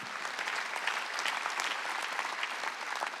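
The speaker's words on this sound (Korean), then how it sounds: "하리라는 걸 믿으면 박수야." Dense, steady applause from a church congregation during a Korean Sunday worship service, sustained and fairly loud throughout with no talking over it.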